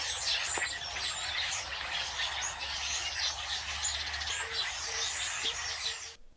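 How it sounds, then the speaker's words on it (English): Dense dawn chorus of starlings in a garden, many birds chirping and whistling continuously at once, a bright steady wash of calls with a low hum underneath, no voices. "This is Brent's recording of his early morning starlings."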